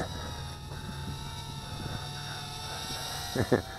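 A Syma X20 altitude-hold micro drone flies close by with a steady, thin, high-pitched motor whine, and a muffled voice and a few clicks sound underneath.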